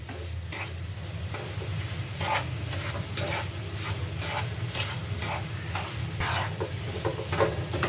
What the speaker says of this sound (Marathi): परत मिश्रण व्यवस्थित ढवळून घ्यायचं आहे ह्याही मिश्रणाने कलर बदललेला आहे